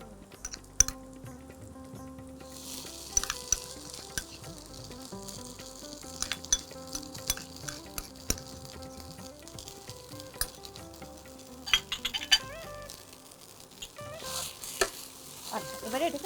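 Bottle gourd leaf paste fries in mustard oil with nigella seeds, giving a steady close sizzle broken by frequent spoon clinks and scrapes against the pan.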